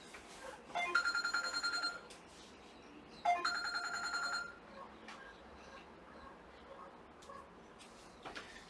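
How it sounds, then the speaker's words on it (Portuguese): A telephone rings twice during an indoor recording, two bursts of electronic trilling separated by a pause, fairly close and moderately loud, with quiet room noise and faint sounds between. "Está tocando no telefone"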